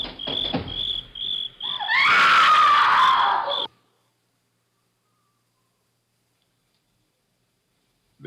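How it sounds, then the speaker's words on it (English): A woman's loud, piercing scream used as a radio drama sound effect, rising sharply over a faint insect-like chirping bed, lasting under two seconds before cutting to silence. "Sounds like a woman screaming."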